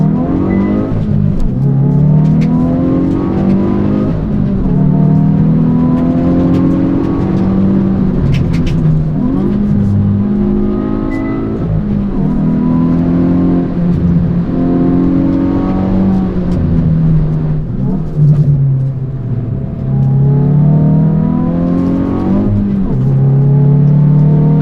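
A Hyundai i20N hot hatch pulls hard in N sport mode, its engine loud and close as it revs through repeated rising climbs and gear changes, with no talking throughout.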